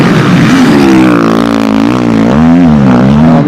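A KTM motocross motorcycle races at a national motocross championship, its engine wailing loud and close with rising and falling revs as the rider pushes hard, no voices over it.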